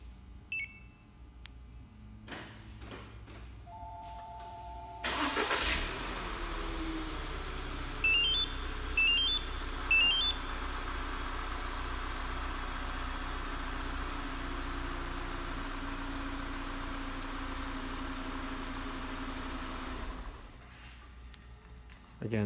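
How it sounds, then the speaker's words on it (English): A 2012 Volkswagen Tiguan fitted with a CompuStar G15 remote starter: a couple of short beeps, then the engine cranks and catches about five seconds in and settles into a steady idle, with a few chirps before it cuts off. "2012 Volkswagen Tiguan with a G15 CompuStar remote starter"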